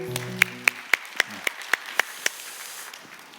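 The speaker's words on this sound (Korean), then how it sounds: "감사의 박수 한번 할까요?" Clapping of thanks at a church youth service comes as eight sharp, evenly spaced claps, fairly close and alone over faint room hiss after a brief sung or spoken tone at the start.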